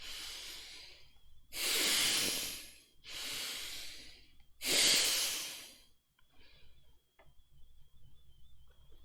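Forceful breathing with a pumping chest during a seated energizing exercise: four loud hissing breaths close to the mic with short gaps between them, then quieter faint breathing, and no speech.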